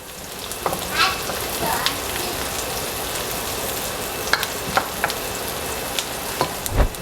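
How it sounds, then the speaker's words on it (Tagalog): Onion and garlic sizzle and crackle briskly in hot oil in a pan, with occasional scraping stirs and sharp pops, close and without talk. "Magisa na tayo ng onion and garlic."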